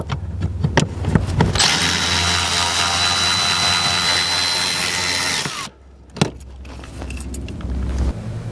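A cordless power tool whirs in a long continuous burst removing 13 mm seat fasteners from a 2006-2008 Dodge Ram truck seat, followed by a brief clatter and quieter handling noises close by.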